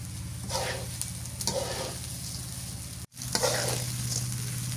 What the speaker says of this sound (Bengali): চাউলটা ভাজা হয়ে গেছে,